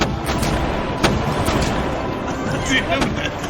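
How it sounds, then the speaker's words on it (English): Ship cannons fire from the deck of a pirate ship, a series of heavy booming blasts in quick succession amid crowd noise and voices. "The cannons go off."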